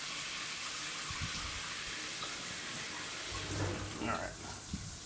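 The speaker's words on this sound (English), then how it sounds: "we're filling up a bucket of water" Tap water runs steadily into a bucket, a continuous broadband rush with a few sloshing surges near the end, recorded at close range.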